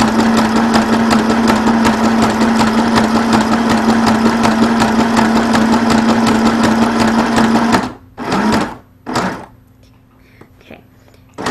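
Janome Sew Mini sewing machine stitching in a steady, loud mechanical whir with a fast regular needle rhythm, then stopping and giving a few short, separate stitch bursts before going quiet.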